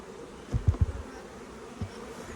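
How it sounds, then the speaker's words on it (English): Honey bees buzzing softly at close range in sunshine, with a few low, brief bumps partway through, as a hive frame is lifted out. "nice bees in the sunshine"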